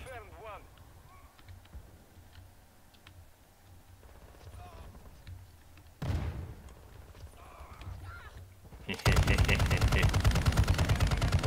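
Raal MG machine gun in Call of Duty: Modern Warfare II, with loud continuous automatic fire bursting in near the end over lighter game noise and scattered thuds.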